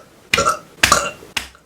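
Three loud, deep burps in quick succession, the first two long and rumbling and the last one shorter, each standing alone with no talking around them.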